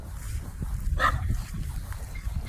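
A pet dog named Cody gives one sharp bark, heard indoors over low rumbling background noise.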